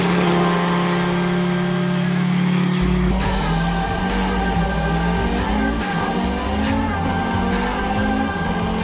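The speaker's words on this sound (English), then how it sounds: "the Audi 5-cylinder with that unique noise" Audi Quattro race car at Pikes Peak, powered by an Audi five-cylinder from the TT RS with variable camshaft control, roaring loudly and continuously with a gear change and shifting engine pitch, close up.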